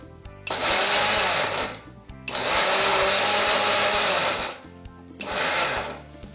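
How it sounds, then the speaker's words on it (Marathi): A kitchen mixer grinder grinding dry mint chutney in short pulses, roaring loudly three times with brief pauses between each burst. "पण हे चटणी करताना एकसारखा मिक्सर नाही फिरवायचा, चालू बंद करायचा"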